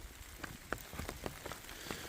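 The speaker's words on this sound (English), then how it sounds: "Well, more rain." Rain falls on a hiking trail, a faint, steady patter with scattered louder drops tapping nearby surfaces at irregular intervals.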